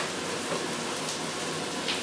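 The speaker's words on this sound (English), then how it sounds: "pull that through the colander," Water and cooked bulgur and quinoa pour through a colander, a steady soft rushing splash like rain on a surface, close and fairly quiet with no talking.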